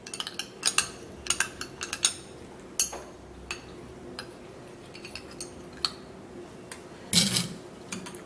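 A spoon stirs potato juice with starch settled beneath it, giving sharp irregular clinks and taps against a glass or bowl, close and dry, with quieter pauses between strikes and a louder cluster of knocks near the end.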